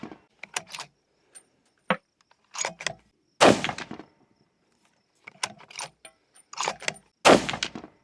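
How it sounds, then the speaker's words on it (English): Ruger American Gen 2 .308 rifle firing Hornady Custom 150 grain SST factory ammunition at a range, with two sharp, loud shot bursts about four seconds apart amid scattered clicks and handling noise. "Ruger American Gen 2 308, trying the Hornady ammunition here."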